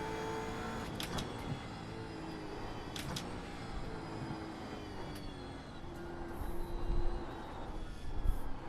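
A Gen 3 Camaro race car lapping Bathurst's Mount Panorama in iRacing, its engine revving through the gears at moderate level, with a louder surge near the end.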